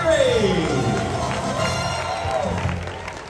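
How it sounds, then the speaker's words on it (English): A large crowd cheers and applauds at the Dolly Parton Stampede dinner show in Pigeon Forge, Tennessee, a loud, steady roar of voices and clapping while an announcer talks over the arena sound. "You give them a cheer, south."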